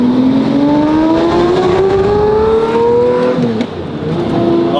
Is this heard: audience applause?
no